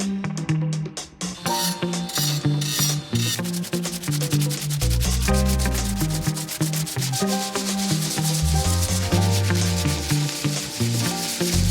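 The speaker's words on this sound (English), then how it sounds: "I'm gonna sand them down first" A Toyota Supra's wing being sanded by hand, rapid rhythmic abrasive strokes close to the microphone, continuous and loud with no talk.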